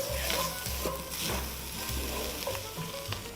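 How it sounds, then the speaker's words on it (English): Onions soften in a pan with a steady sizzle, broken by the scrape and clatter of stirring at irregular intervals. A low hum runs underneath, and there is no talking. "My onions are starting to soften"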